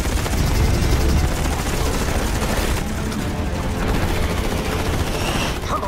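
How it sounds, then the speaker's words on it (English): Rapid bursts of fighter jet cannon fire, dense and continuous, amid roaring engine and explosion noise in a loud dogfight scene from Top Gun Maverick, with no speech. "Switching to guns."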